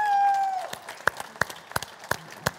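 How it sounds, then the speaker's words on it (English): Conference audience applause starts up after a fading tone, heard as scattered, fairly distinct claps spaced irregularly rather than a dense roar, moderately close. "give a huge round of applause for VentureBeat"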